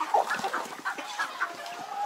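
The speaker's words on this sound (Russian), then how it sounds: "Ой, гуси загалдели." A flock of geese cackles and honks in a continuous, overlapping chatter, moderately close, with no talking.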